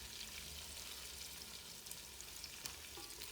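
Onions sautéing in a pan for Bangalore donne biryani, a soft even sizzle with a few light stirring clicks, close but quiet, no voices.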